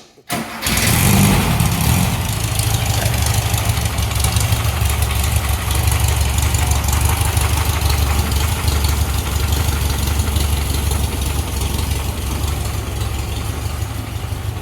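A modern-chassis Volkswagen-based dune buggy with an 1835 engine cranks and catches, then settles into a loud, steady, slightly rough idle that runs unbroken close by.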